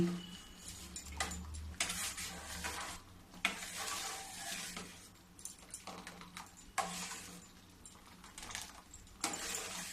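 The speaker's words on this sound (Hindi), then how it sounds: "ये जो किनारी में लगी है वो किनारी छोड़ा छोड़ा के ये चटनी में ही मिक्स करते जाती हूँ।" Thick tamarind chutney is stirred in a pan, scraping the edges. It makes quiet, intermittent bursts of scraping and a soft bubbling sizzle in between.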